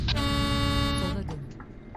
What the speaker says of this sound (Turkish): Korna mı çaldı?